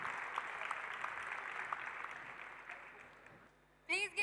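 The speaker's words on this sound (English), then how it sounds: "Please give a huge round of applause for our paper presenter" An audience at a valedictory session applauds a paper presenter, with steady, dense clapping for about three and a half seconds before it dies away and a voice begins speaking.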